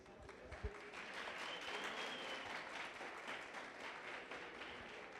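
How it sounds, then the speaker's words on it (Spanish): Warm audience applause fills the room for a lecturer at a university business conference, dense steady clapping from a large crowd lasting several seconds without any voices. "el maestro Benito López, para quien les pido un caluroso aplauso."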